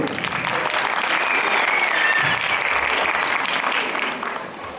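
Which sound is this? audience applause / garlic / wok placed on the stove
audience applause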